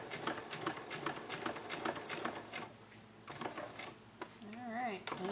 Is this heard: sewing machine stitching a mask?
yes